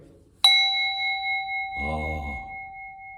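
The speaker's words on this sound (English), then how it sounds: "usually the assisting minister rings the gong" A single gong strike during a worship service gives a sharp metallic onset and a clear, ringing tone that sustains and slowly fades. A voice speaks briefly over the lingering ring.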